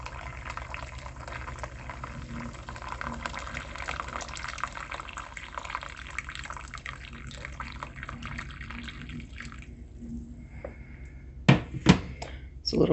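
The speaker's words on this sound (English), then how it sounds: "Now I'm going to add a bit of water to bring up the level to 3/4 of the way up the sides of the pudding." Water poured from a jug into the pan around a steamed ginger pudding basin, a steady liquid rush with soft trickles and drips. Two sharper knocks come near the end.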